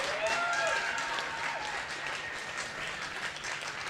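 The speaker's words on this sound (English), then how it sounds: "And healthy applause around the Ontario Soccer Centre for a job well done" Crowd applause at the Ontario Soccer Centre after the final whistle of a U14 boys OPDL Charity Shield match, a steady wash of clapping from around the venue with voices and a faint whistle-like tone early on.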